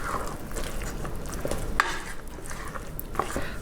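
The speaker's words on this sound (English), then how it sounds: "So I'm just now going to mix those in." A spoon stirring dried cranberries into thick pumpkin bread batter, soft close scraping and sticky squelching with a few light clinks against the bowl.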